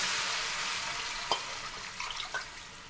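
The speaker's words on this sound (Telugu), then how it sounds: "ఇదిగండి గ్లాసున్నర వాటర్ పోసుకోవాలి." Water poured into a hot tempering for vermicelli upma, a soft hiss and bubbling sizzle under a few faint clinks, steady and quiet throughout with no voices.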